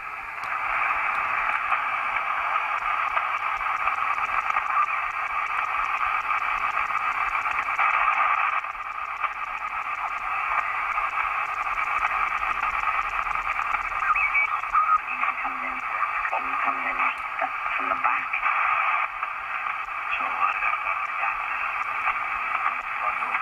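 A Sony ICF-SW55 radio receiving a broadcast plays a steady, narrow-band programme thick with hiss and static, continuous and fairly loud for the whole stretch.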